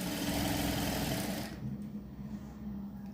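A sewing machine stitches a blouse seam with a rapid, even mechanical whir close by, softening partway through as the run slows.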